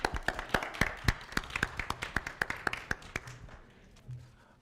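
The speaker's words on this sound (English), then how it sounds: "Round of applause." A few people in the audience at a candidates forum clap in a thin, sparse round of applause. The individual hand claps are distinct and close, and they taper off after about three seconds.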